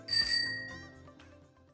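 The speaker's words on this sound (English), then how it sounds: "ring the bell" A single bright bicycle-style bell strikes once, then its metallic ring decays over about a second and a half, with no talking.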